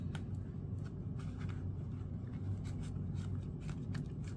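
Paper rustling and soft scraping as cash is pushed back into a paper envelope, quiet and close with short crinkly bursts over low background hum.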